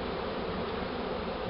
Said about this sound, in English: See the bees fanning the wings